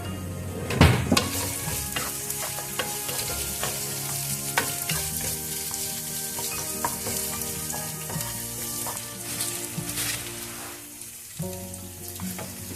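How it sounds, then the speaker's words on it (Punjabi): Chopped onions fry in oil in a pan for spicy noodles, giving a steady close sizzle broken by scattered clinks and scrapes of stirring. "ਇੱਧਰ ਪੈਨ ਵਿੱਚ ਰੱਖ ਲਿਆ ਆ ਵਿੱਚ ਤੇਲ ਪਾ ਲਿਆ ਹੁਣ ਮੈਂ ਵਿੱਚ ਪਿਆਜ਼ ਕੱਟ ਲੈਣੇ ਆ"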